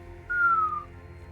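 A person lets out a short whistle with a slight downward glide, a single clear tone lasting about half a second over quiet background noise.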